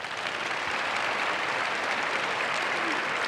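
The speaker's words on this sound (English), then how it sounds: "So if you fit into one of those categories, could you clap?" Audience applauding at a presidential faith and family forum, an even, sustained wash of clapping filling the room throughout.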